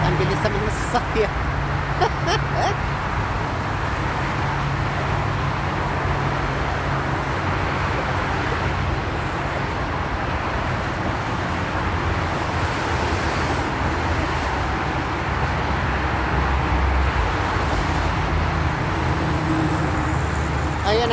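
Steady broadband roar of fast road traffic crossing a bridge over Dubai Canal, continuous wash of passing cars and wind with a voice speaking over it.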